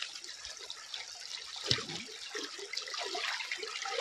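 Splashing and trickling water as slippers are washed outdoors near a waterfall, a steady wet rushing with a brief louder splash partway through, close and alone without talk.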